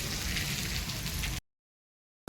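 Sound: rain

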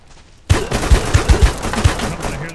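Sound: gunshots in the video game Deadside

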